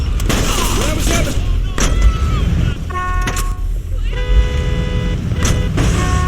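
Gunfire in the Mafia II Definitive Edition video game: rapid bursts of loud shots and sharp cracks mixed with game sound effects and tonal music cues, with some speech in the mix.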